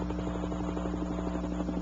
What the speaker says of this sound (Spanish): y el sonido de un helicóptero.